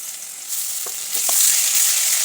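Ginger-garlic paste sizzles steadily in hot oil with browned onions in a village-style kitchen, stirred with a couple of soft scrapes of the spoon against the pan, and the frying grows a little louder toward the end.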